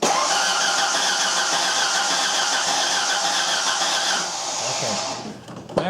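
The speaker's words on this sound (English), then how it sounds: "I'm going to crank it for about 10 seconds and then that'll purge any fuel that's in there" A Ford Ranger engine cranking with the fuel pump disabled, a steady, continuous starter whir that drones on for several seconds without catching, then drops in level and winds down.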